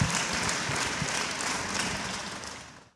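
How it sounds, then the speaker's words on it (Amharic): A church congregation claps in praise, a dense continuous wash of many hands applauding at a steady level before fading out at the end, with no speech over it. "አጨብጭቡ ለእግዚአብሔር፣"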